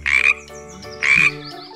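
A cartoon frog in an Azerbaijani children's animal story croaks twice, each a short loud croak followed by a softer tail, close and clear with no talk.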